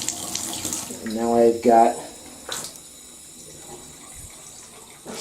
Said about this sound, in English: I'm going to put on just light water pressure